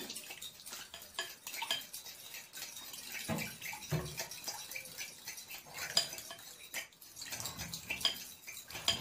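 Donut dough with egg and wheat flour being mixed in a bowl, a steady clatter and scrape of utensil against the bowl with wet squelching, close and continuous at moderate level, no voices.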